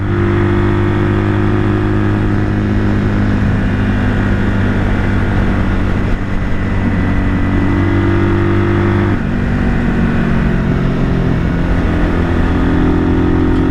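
A rebuilt 1978 Kawasaki KL 250 motorcycle engine droning loudly and steadily while riding, its pitch shifting slightly with throttle changes, close and constant throughout.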